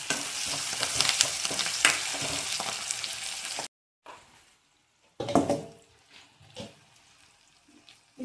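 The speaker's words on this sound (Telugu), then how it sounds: "ఉల్లిగడ్డ మగ్గుతున్నాయి కదా" Onions frying in a pan, a loud continuous sizzle with stirring that cuts off abruptly, followed by quieter scattered clatter and a brief splash of water.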